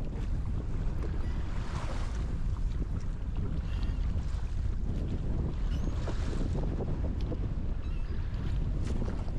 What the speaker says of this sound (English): If it looks cold and sounds windy, it's because it's cold and windy today